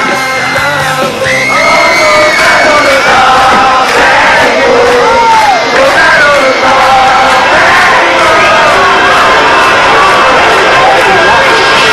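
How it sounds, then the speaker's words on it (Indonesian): A concert crowd shouts and sings along with no music playing, a loud, continuous mass of voices with rising and falling chanted melody lines. "dia cuma dengar orang-orang cuma teriak-teriak nyanyiin lagu tanpa musik"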